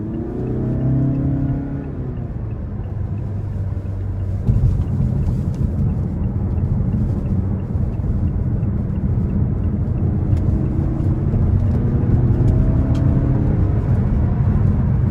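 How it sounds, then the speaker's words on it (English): A 2017 Mazda 6 Grand Touring with a naturally aspirated four-cylinder engine accelerates hard, its steady engine drone rising in pitch through several gear changes from inside the cabin, loud and continuous with no talk. "really good acceleration for a naturally aspirated 4-cylinder"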